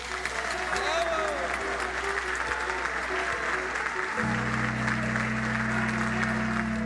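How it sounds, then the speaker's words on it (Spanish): Applause fills Peru's Congress at a presidential inauguration, a dense, steady clapping from a large audience that carries on throughout, with a sustained tone rising beneath it partway through. "En medio de aplausos y compromisos, Pedro Castillo asumió el mando del país hasta el 2026"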